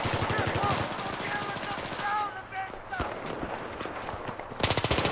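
Rapid automatic gunfire from a FAMAS and other weapons in a Battlefield 3 team deathmatch, loud bursts of repeated shots with brief gaps, a final burst near the end, under game sounds and a talking voice.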